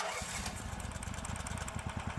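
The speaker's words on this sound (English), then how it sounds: "Now let's start the engine again." Predator 420cc Hemi small engine fitted with an automatic choke, running with a rapid, steady chugging putter at close range.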